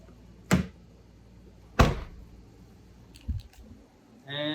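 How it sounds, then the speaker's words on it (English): A Ford Mustang S550 door with a broken latch is swung shut twice, giving two hollow thuds that fail to catch, followed by lighter clicks and a brief rattle. "So I went to close the door."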